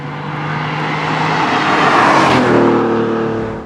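A TVR T350C with its Speed 6 engine revving hard under full throttle, a loud, raspy engine note that swells to a peak and then eases slightly, close by and with no talking.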